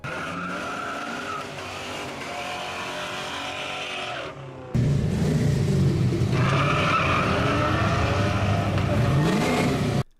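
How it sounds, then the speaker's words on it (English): Ford Mustang GT V8 driven hard, engine roaring loud and close with a steady drone that jumps louder midway and climbs in pitch under acceleration, with a tire squeal in the mix. "the Mustang GT is the perfect car for you, as it's a blast to drive and again makes some awesome noise"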